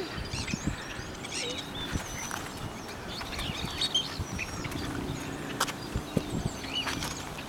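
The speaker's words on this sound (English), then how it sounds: "Do you see the ducks, McKenna?" Ducks at a park give soft, scattered quacks and calls over quiet outdoor ambience, with brief chirps and faint knocks mixed in at a modest distance.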